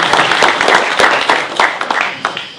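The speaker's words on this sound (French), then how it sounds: "Allez-y, applaudissez-moi." Audience applause at a municipal campaign list presentation in Talant, a lively, sustained clatter of many hands with distinct sharp claps scattered through it, fairly close and loud.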